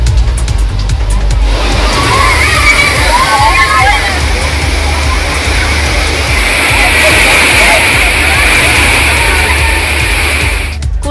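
Kovai Courtallam waterfall, crowded with tourists bathing during a festival outing, gives off a steady, loud rush of falling and splashing water with the murmur of many people mixed in throughout.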